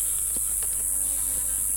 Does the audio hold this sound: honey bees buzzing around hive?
yes